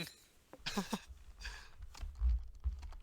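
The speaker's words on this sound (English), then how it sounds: "Sorry, I'm still typing." Typing on a computer keyboard during an online tabletop role-playing session: faint, scattered clicks and taps close to the microphone, with low background noise.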